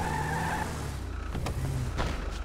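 A car in a GTA role-play game skids to a halt with a short tyre screech, then rolls and settles over a steady engine rumble, loud and close, with no talk.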